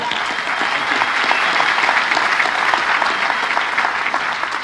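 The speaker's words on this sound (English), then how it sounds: "I just want to give you a huge round of applause for that." Sustained applause from a large keynote audience, steady dense clapping throughout with no pauses and no voices standing out.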